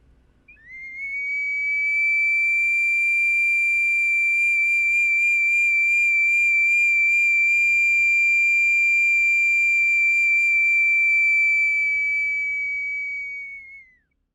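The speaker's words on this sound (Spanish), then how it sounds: "el sonido de la vasija silbadora se asemeja mucho al sonido de los pájaros" An ancestral ceramic whistling vessel from Pumapungo sounds one long, steady, piercing whistle with a slight warble, loud and close, sustained for about thirteen seconds before tapering off, with no talking.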